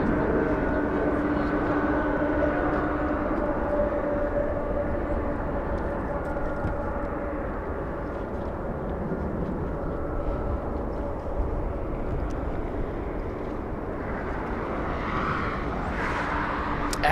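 A Delta Boeing 767 jet departs LAX, heard as a continuous, distant broad engine roar that holds steady for the whole stretch, with a voice talking over it.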